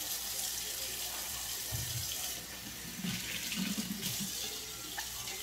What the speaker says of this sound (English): I'm going to wash inside and out simply because, again, from the manufacturer, you want to make sure that there's no dust or